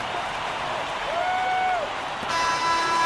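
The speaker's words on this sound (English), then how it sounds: "So the home crowd happy here as they get the victory" Home crowd in a Euroleague basketball video game cheers and applauds after a victory, a steady broad roar with a brief whistle-like tone, then a brighter rise toward the end.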